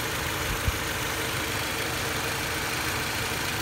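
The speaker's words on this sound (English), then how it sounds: "Slick running little engine." A 2004 Pontiac Sunfire with the 2.2 Ecotec engine idles steadily with a smooth, even low rumble and a faint mechanical hum, close by and alone with no talking.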